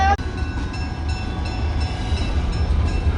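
A heavy diesel train on the Tennessee Valley Railroad rumbles steadily past close by, a low engine drone with rattling carriages and faint metallic ringing above it.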